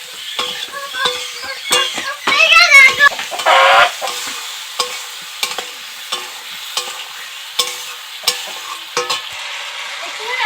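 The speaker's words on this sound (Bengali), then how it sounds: "সবকিছু খুব ভালো করে কষিয়ে নেব।" Turmeric and chili powder being stir-fried in a pan, loud rhythmic scraping and clacking of a spatula over a faint sizzle, with a few short bursts of clatter.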